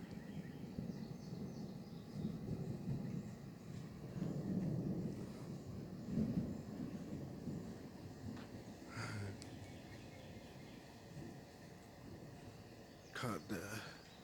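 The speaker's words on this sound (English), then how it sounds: "Now lightning and thunderstorm." Thunder rumbles low and broad through a thunderstorm at a distance, with wind noise on the microphone and a few sharp cracks or bird calls on top; a person speaks at points.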